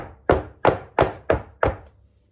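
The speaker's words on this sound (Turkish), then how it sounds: "eşit olması için birkaç kere tezgaha vuruyorum." A glass baking dish filled with trileçe cake batter is knocked against a kitchen counter to level it, giving five loud, evenly spaced hollow thunks, each fading quickly, then quiet.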